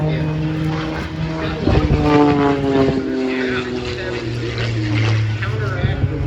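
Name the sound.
aerobatic airplane doing hammerhead and outside snap at airshow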